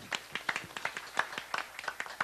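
A small audience claps for the mayor at a televised community event in Dikmen, Sinop, Turkey. The claps are scattered and uneven, coming as a loose patter of separate hand claps with some voices underneath.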